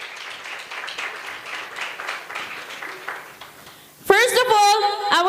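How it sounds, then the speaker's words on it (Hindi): An audience at an evangelistic church meeting claps for the Holy Spirit in a scattered, moderately loud round of clapping that lasts about four seconds, then a voice starts speaking over the fading claps. "give a big round of applause to the Holy Spirit"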